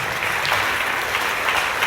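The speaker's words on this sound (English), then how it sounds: "Let's give a round of applause for everyone who's received promotions in the last 6 months." Applause from a convocation audience honoring staff recently promoted, a steady dense wash of clapping that stays loud and even for its full two seconds with no voices above it.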